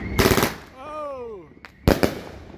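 Raccoon fireworks crackle in two loud bursts of rapid pops, with a whistling rising tone between them, and a voice speaks briefly among the bangs.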